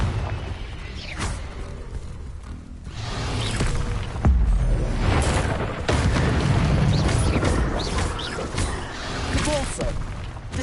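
Confringo blasting spells in Hogwarts Legacy burst in a series of booming explosions with whooshes and debris crackle, loud and close, over ongoing game sounds.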